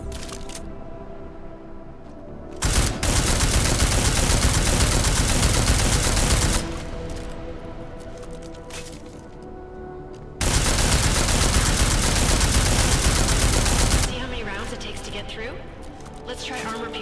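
Gunfire in Deus Ex: Mankind Divided, two long sustained bursts of rapid automatic shots, loud and close, separated by quieter stretches of background game ambience.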